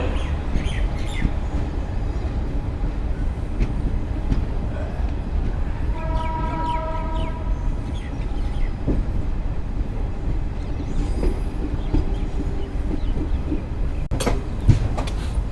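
Garib Rath Express running on Indian rails, a steady loud rumble and rattle of carriages in motion, with a brief tonal squeal partway through and faint chirps over the din.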